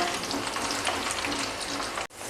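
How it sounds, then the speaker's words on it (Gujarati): Raw banana pieces for Kathiyawadi undhiyu deep-frying in hot oil, a steady dense sizzle with bubbling crackle that holds close and loud, then cuts off abruptly near the end. "તો આપણે કેળા પણ એકદમ સારા એવા તળાઈ ગયા છે"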